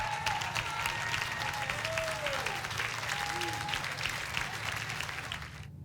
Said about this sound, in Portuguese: Se você tem 2 mãos, bata palmas ao Senhor e dê a Ele louvor